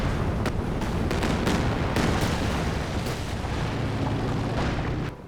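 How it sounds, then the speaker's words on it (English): Flame mortar shells from Company of Heroes 2 land in a late-game 3v3 tank battle, loud repeated booming impacts and bursts over a dense rumbling backdrop of battlefield fire. "Oh, that's a flame mortars."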